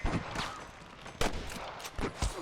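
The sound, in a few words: gunfire in the video game Red Dead Redemption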